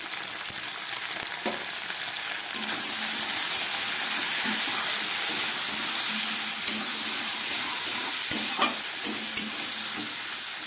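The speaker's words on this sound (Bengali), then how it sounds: "খুব ভালো করে এবার একটু ভেজে নেব। ঢ্যাঁড়সগুলোকে খুব বেশি ভাজবো না।" Okra with salt and turmeric frying in hot oil in a pan, a loud steady sizzle and hiss with occasional stirring clacks of a spatula.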